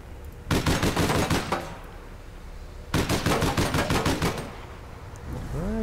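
Rapid automatic gunfire from the video game APB Reloaded, two loud sustained bursts of closely spaced shots separated by a brief pause, with no talking.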